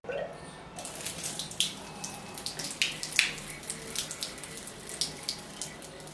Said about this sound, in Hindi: यहाँ पर हम वाटर हीटर के अंदर एक बार पानी ज़रूर भरेंगे इस तरीके से